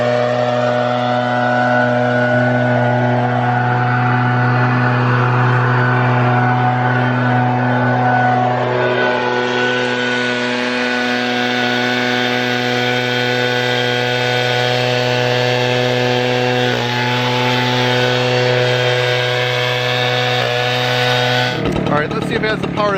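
An Echo PB-8010H backpack blower runs close and loud with a steady droning roar, its pitch rising and falling as the throttle changes, then cutting off abruptly near the end.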